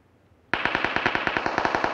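Rapid automatic gunfire during a PUBG Mobile fight starts abruptly after a brief quiet moment, then runs as a fast, evenly spaced string of loud shots.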